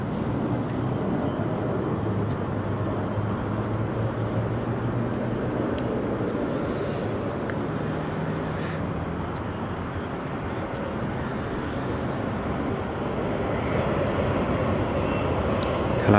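A British Airways CityFlyer airliner arriving at London City Airport, a steady broad engine roar holding loud and even throughout, with faint background noise and no clear voices.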